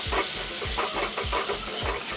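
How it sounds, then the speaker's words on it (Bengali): Spices with chicken liver frying and sizzling in a pan, a steady hiss broken by repeated low thumps of stirring, close and without voices. "এবার আমি ভালো করে মশলাগুলি ভেজে নেব"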